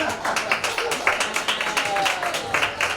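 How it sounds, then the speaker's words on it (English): Comedy club audience in Richmond, Virginia clapping steadily for a World War II veteran, a dense run of close, overlapping handclaps filling the room without a break. "Clap for him!"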